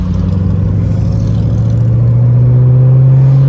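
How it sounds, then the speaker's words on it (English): Motorcycles in a fire department bike rally pass as one loud, steady engine drone whose pitch climbs slightly as it goes on, with no voices. "So a little bike ride for the fire department."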